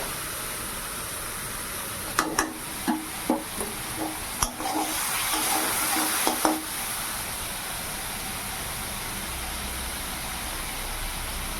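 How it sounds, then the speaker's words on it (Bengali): Spice paste with green chillies sautéed in a pan gives a steady sizzle, with a few sharp spoon clinks and scrapes in the middle stretch and a constant background hum throughout. "এখন কাঁচা লঙ্কা দিয়ে দিলাম তো ভালো করে মশলাটাকে কষিয়ে নেবো"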